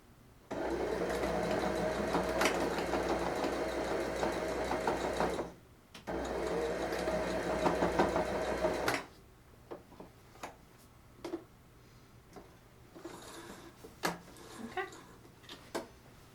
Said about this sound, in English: She'll do a back stitch in the beginning and a back stitch in the end.